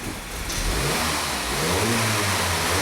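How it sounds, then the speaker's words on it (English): A 2012 Volkswagen CC with a cam timing fault revs up from idle, its engine note rising and swelling into a loud steady roar close to the microphone. "If we rev the engine"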